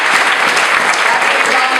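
An indoor audience claps steadily in a dense, loud burst of applause for weekend volunteers at an awards event, with no pause.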